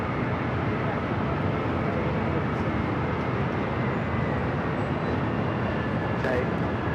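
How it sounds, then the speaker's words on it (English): A Delta Boeing 757 lands on runway 24 right at LAX, heard as a continuous, dense broadband engine and airflow roar that holds steady and loud throughout. "Let's head to that Delta 757 short funnel"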